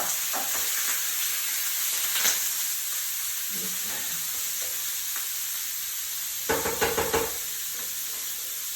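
Pork pieces hit hot avocado oil in a pan for a stir fry, giving a constant bright sizzle, with a few louder crackling bursts as the meat settles, close up and without talk.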